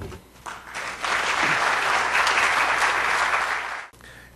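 A lecture audience breaks into sustained applause for the speaker of a special design lecture, a dense wash of clapping that builds quickly, holds for about three seconds and then fades out.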